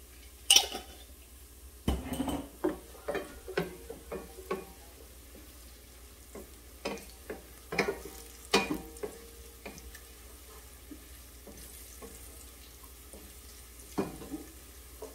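Onions and cumin seeds frying in a pot for a chicken and chickpea curry, a soft continuous sizzle broken by repeated clinks and scrapes of a spoon stirring against the metal pot.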